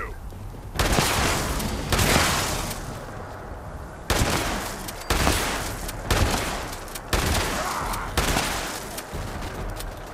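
A minigun firing in Fallout 76, long loud sustained bursts of rapid gunfire broken by short pauses, close and dominant, with a voice talking underneath.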